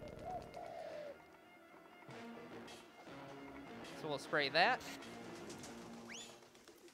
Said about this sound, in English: that's a real pigeon there.